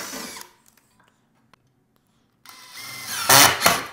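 Power drill driving screws to mount a commercial electrical box, silent at first with a few faint taps, then a loud close whirring burst that rises sharply near the end.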